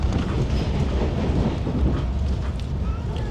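Tejas Express rumbling along the Konkan Railway heard from inside a Vistadome coach, a steady low roar with faint rhythmic rail clatter and some wind noise.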